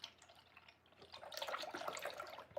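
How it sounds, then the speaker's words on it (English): Liquid poured into jars while making L. reuteri yogurt at home, a steady watery splashing and trickling that grows louder and fuller midway, close and continuous with no talk over it. "so now we pour the whole rest in"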